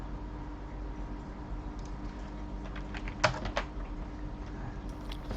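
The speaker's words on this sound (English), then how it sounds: "I'm typing on Discord, doing tech support" Computer keyboard typing, quick irregular clicks at low to moderate level with a brief cluster of sharper keystrokes midway, under a steady background hum and no talking.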